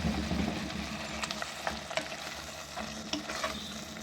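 Fried okra and onion go into a frying masala with oil risen to the top, giving a low, steady sizzle with light stirring clicks and scrapes, close and quiet, without speech.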